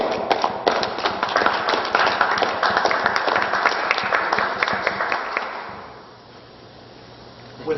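At a school board of education meeting, an audience applauds for Mr. Buzzard with a dense, close burst of clapping that carries for several seconds, then drops away into quiet room tone.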